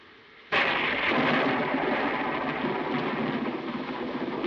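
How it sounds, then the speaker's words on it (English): A sudden loud thunderclap from a thunderstorm bursts in, then rolls on as a long, broad rumble mixed with the hiss of rain, with no talking. "I love thunderstorms, don't you?"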